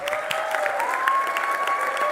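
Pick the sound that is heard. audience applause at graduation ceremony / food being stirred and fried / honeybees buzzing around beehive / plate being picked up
audience applause at graduation ceremony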